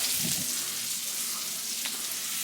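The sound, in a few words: bacon and sausage frying in a pan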